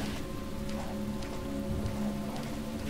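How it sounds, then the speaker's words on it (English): Steady rain falling in the video game Deadly Premonition, a constant hiss of drops on surfaces with a low droning hum beneath, even and continuous without speech. "I need to be out in the rain in this weird part of town."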